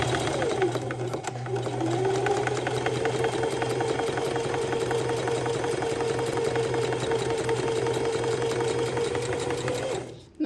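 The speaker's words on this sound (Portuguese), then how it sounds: "Aí agora eu vou fazer um pesponto desse lado e desse lado aqui." A sewing machine topstitches a children's multipurpose pencil case in one long continuous run lasting about ten seconds, its motor hum and rapid needle clatter steady and close before stopping abruptly.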